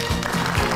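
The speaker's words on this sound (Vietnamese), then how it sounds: "Chúng ta dành một tràng pháo tay thật lớn để chào đón cô giáo Vũ Thị Thuận được không ạ?" Applause at a primary and lower-secondary school class reunion in Bắc Hải, marking 25 years, welcoming a teacher; a short, dense burst of clapping with steady level throughout, no voices over it.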